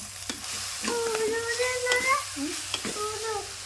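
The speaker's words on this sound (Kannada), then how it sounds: "ಪಾಲಕ್ ಸೊಪ್ಪು ನೋಡಿ ಇದನ್ನು ಫ್ರೈ ಮಾಡ್ಕೋಬೇಕು" Spinach (palak) frying and being stirred in a pan for village-style palak pulao, a steady close sizzle with scraping stir strokes, while people talk over it throughout.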